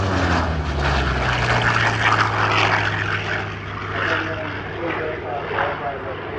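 A Hawker Fury piston fighter, a former Reno air racer, flies past at an Australian airshow, its propeller engine a loud sustained drone with a low steady hum that slowly fades as it passes, with talk underneath.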